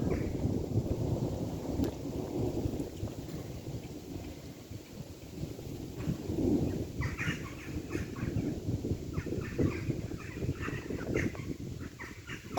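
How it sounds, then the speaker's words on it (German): Thunder from a distant thunderstorm rolls as a long, low rumble that swells and fades, with fainter crackling and other background noises and no clear sharp clap. "aber es ist gut am Donnern."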